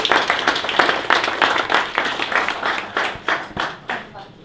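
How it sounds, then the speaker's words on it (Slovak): An audience at a charity fundraiser for a young girl's cause claps steadily in a dense patter that gradually thins and fades into a few scattered claps, moderately loud and close. "Takže ešte jeden obrovský potlesk."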